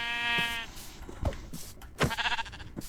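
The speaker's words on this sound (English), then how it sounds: "So we're going to take this other sheep out right here." A sheep in the Minecraft video game gives a clear bleat, then several shorter bursts of game sound follow in an uneven rhythm, moderately loud and with no talking.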